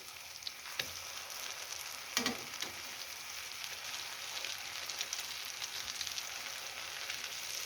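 Zucchini slices in a cheese-and-egg batter frying in a pan over medium heat, a soft, steady crackling sizzle with a few light clicks of turning, faint and wordless.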